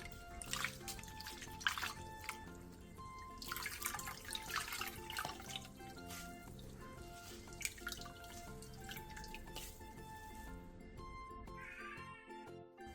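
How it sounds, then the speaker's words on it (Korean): Blanched sea greens rinsed under cold running water and squeezed out, a soft trickle and dripping throughout, with a cat meowing repeatedly nearby. "데친 새발나물은 바로 찬물에 헹궈낸 뒤 물기를 최대한 꼭 짜주세요."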